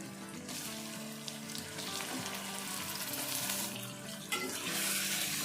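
Half a kilo of boneless beef hits hot oil with ginger, garlic and green chilli, giving a loud, steady close sizzle and frying crackle throughout, with stirring noises and no talk.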